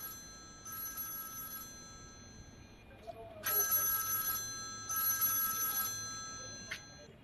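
A telephone bell rings in a Pakistani drama scene, two clear bursts of trilling rings separated by a pause, moderately loud against a quiet room with faint earlier tones and background sound.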